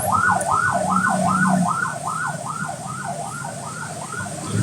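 A police siren wails in a steady, regular rise-and-fall cycle, moderately loud and continuous over a low background rumble.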